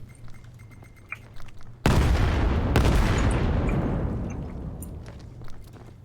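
Artillery fire in the Vail video game during a competitive match, a sudden loud blast that rolls into a long, fading rumble, with a second burst layered in and quieter scattered sounds around it.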